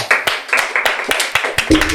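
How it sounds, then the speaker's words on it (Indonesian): A studio audience claps in a rapid, uneven patter of sharp hand claps, close and fairly loud, with voices mixed in underneath. "Kenapa kamu kasih tepuk tangan dulu dong?"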